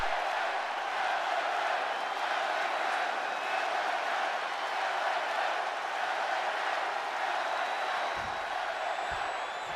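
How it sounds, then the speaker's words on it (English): A packed arena crowd roars and cheers steadily in WWE 2K25, a dense, loud, unbroken wall of noise for the whole stretch, with a couple of brief low thumps near the end. "the roar of the crowd tells you all you need to know"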